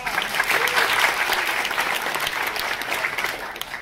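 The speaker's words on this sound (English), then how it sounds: "Give yourselves a round of applause." Steady applause from a TEDx talk audience fills the clip, dense clapping continuing at an even level throughout.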